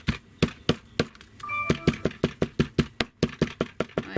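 Steady rhythmic pounding of flower petals onto fabric for eco staining, about three blows per second, each a loud close thud, with no talking.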